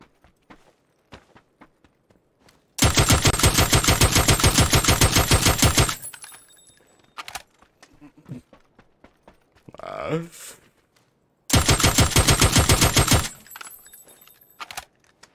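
Two long bursts of rapid automatic gunfire from a recoilless gun in PUBG, loud and rhythmic, separated by quieter clicks and a brief voice.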